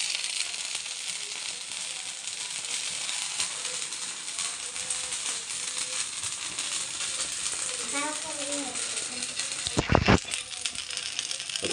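Sago dosa frying in oil on a pan: a steady, loud hiss and sizzle that runs throughout, with a few clinks near the end and a sharp clatter around ten seconds in.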